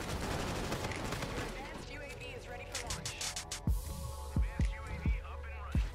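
Rapid bursts of automatic gunfire from the Call of Duty: Infinite Warfare shooter, dense and continuous at first, then separate heavy booming shots, mixed with game sounds.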